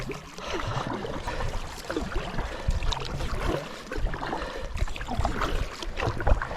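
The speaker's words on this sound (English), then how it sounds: "So I'm approaching the first little set of rapids that I went to yesterday" A solo kayak on the Cedar River nears a small set of rapids, with a steady rush of flowing water mixed with gusty wind buffeting and faint paddle splashes, continuous and fairly close.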